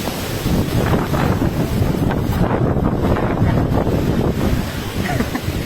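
Strong wind sweeps through a village in Marathwada, buffeting the microphone with a loud, steady roar that holds for the whole stretch.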